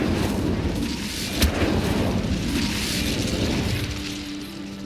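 Incendio fire spell cast in Hogwarts Legacy: a steady, roaring whoosh of flame with a sharp burst near the start, loud and continuous before easing off at the end.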